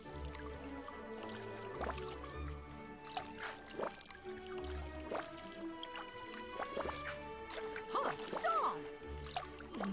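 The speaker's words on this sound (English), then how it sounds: "I might be able to water the whole thing." Watering crops in the Disney Dreamlight Valley video game: soft dripping, splashing water effects repeat over steady game music, with short magical chimes, and no one speaks.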